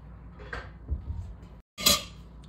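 Meat being put into a side dish in a home kitchen while cooking dagabis, heard as soft scrapes and light clinks of utensils on a plate, then a brighter clatter after a brief pause.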